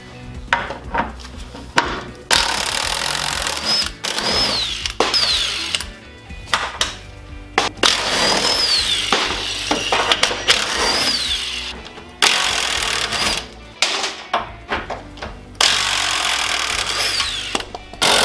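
A Craftsman impact wrench removes fender bolts on a Jeep Wrangler YJ in loud, close, rattling bursts of several seconds each, separated by short pauses and clanks of handling.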